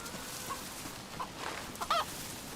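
A chicken in the video game DayZ clucks in a few short, faint calls against a steady background hiss, heard alone without talk.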